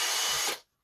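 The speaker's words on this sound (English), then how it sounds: "Just going to drill through the turret." A 2.5mm drill bit bores through the steel turret of a Gamo Phox air rifle with the action removed from the stock, a close, loud, steady grinding whine that stops abruptly after about half a second.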